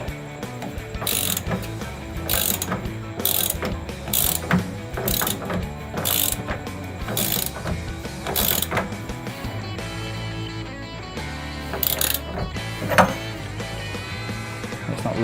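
A ratchet clicks rapidly and repeatedly while tightening a part in a Classic Mini interior, with bursts of mechanical ticking in steady strokes and brief pauses between them, close and alone without speech.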